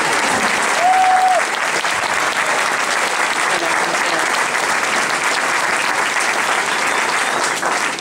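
A crowd applauds performers taking their bow after a show of songs from Grease: loud, continuous clapping that holds steady for about eight seconds, with a brief high whistle early on.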